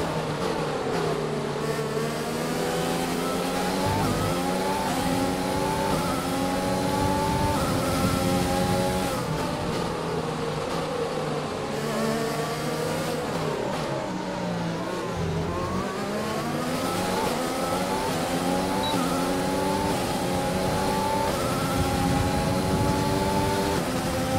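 A Formula 1 race car engine from F1 2020 drones continuously, with harmonic whine rising and falling through gear changes and throttle lifts, loud and close throughout without talk.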